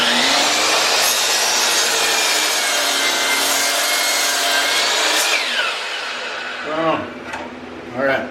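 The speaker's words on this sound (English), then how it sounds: "always cut the swag end, factory end off your boards" A hand saw cuts through a wooden board to trim off the factory end, loud rasping strokes running steadily and close, then slowing into a few separate strokes at the finish.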